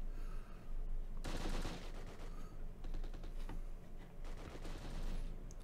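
Bursts of gunfire and rattling machine-gun volleys from a World War II video game battle at Arnhem, Polish paratroopers against German SS, crackle loudly in clustered salvos that rise and fall across the scene.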